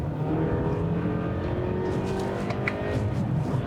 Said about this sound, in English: I'm not in love with the noise that this engine is making.